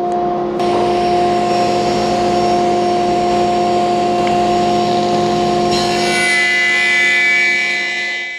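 A SawStop table saw cuts a bevel along a wooden panel stood on edge, the motor whining loudly with steady tonal hum as the blade rips through the wood, the pitch shifting near the end of the cut.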